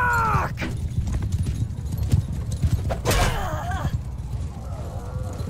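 Hooves pound in a galloping horse's rhythm in the battle game Mount and Blade 2 Bannerlord, with low thuds close by, sharp impacts layered on top and a brief whinny mixed into the busy battle noise.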